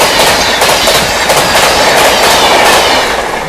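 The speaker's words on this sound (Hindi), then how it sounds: "ये बात हावड़ा राजधानी भाई का मारा है ओवरटेक भाई।" Howrah Rajdhani train passing at speed on an Indian rail line, loud continuous rumble with rapid clickety-clack of wheels over rail joints and a faint squeal, close by.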